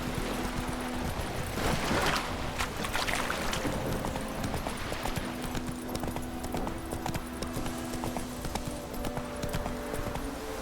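Horse hooves clip-clop steadily in The Witcher 3, a loud continuous trotting rhythm with a low droning tone and ambient game noise underneath.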